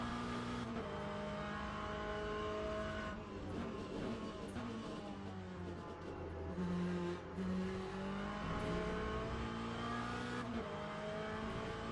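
A race car engine in the Le Mans Ultimate sim, droning loudly and continuously with rising and falling revs through gear changes, close and steady across the whole stretch.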